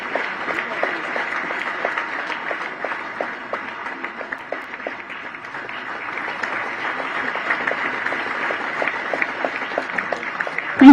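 Steady audience applause fills a tenth-anniversary celebration hall after the institute chairman is introduced, dense clapping sustained throughout at moderate level with a slight swell at the end.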